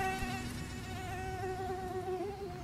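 A mosquito's thin, whining buzz hovers close and steady, wavering slightly in pitch as it flies, used as an animation sound effect for a mosquito trap. The buzz is heard alone, with no voices.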